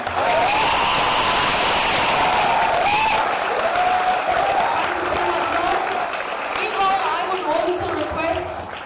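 Audience applause fills a press conference for a boxer ahead of a WBO Asia Pacific super middleweight championship, a steady loud wash of clapping and crowd noise with voices talking over it throughout.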